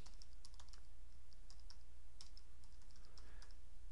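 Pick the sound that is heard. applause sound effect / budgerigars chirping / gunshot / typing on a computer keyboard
typing on a computer keyboard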